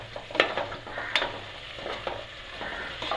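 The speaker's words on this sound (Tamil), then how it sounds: "இஞ்சி பூண்டு பேஸ்ட் பச்சை ஸ்மெல் போகிற வரைக்கும் வதக்கிக்கலாம்." Ginger garlic paste and vegetables sautéing in a pan for veg pulao, with a soft steady sizzle and repeated clinks and scrapes of the spoon stirring against the pan, no voices.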